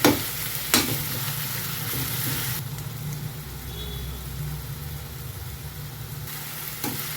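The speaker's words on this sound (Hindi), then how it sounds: "अब हमें इसे थोड़ा ब्राउन होने तक भूनना है" Whole coriander seeds, partly crushed, fry in oil in a pan for bitter gourd curry, giving a soft continuous sizzle with a low background hum and a couple of sharp clicks.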